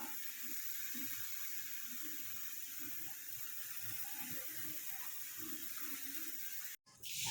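Water runs from a tap into a bucket being filled for mopping, a steady hissing stream with soft gurgles and splashes underneath, continuing evenly before a brief break near the end.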